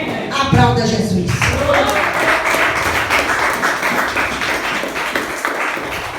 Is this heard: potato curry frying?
no